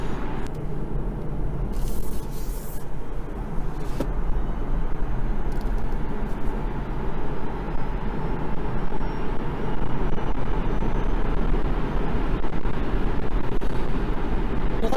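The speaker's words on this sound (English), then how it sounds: "that was a nice piece of acceleration, smooth off the roundabout, and from 50 to just under 80 on the speedo" Hyundai Kona Electric, the 39kWh version, accelerating off a roundabout from about 50 to nearly 80, heard from inside as a steady low road and tyre rumble with a faint rising whine, no talking.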